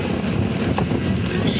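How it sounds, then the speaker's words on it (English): Strong wind high up by a large lake buffets the microphone in a steady, roaring rush with no talking, a broad continuous noise that stays loud throughout. "It's quite high and extremely windy."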